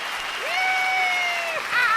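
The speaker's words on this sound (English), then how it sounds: "Let me give you a nice round of applause" Audience applause swells under a sustained, sliding whistle-like tone, steady and fairly loud for about two seconds, building again at the end.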